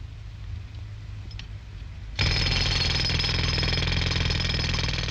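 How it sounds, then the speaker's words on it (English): A pneumatic road drill breaker at a building research noise test starts up abruptly after a low engine rumble, then hammers loudly and continuously in a dense, rapid clatter. "Tests have been carried out at the building research station with the cooperation of manufacturers on muffled and unmuffled drills"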